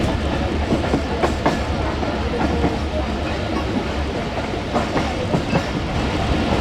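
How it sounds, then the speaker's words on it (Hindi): A Musa Pak Express railcar rolls through Multan City railway station with a steady, loud rumble and rhythmic clickety-clack of wheels over rail joints, heard from on board throughout. "मुल्तान सिटी रेलवे स्टेशन से गुजर रहे हैं इस वक्त हम लोग।"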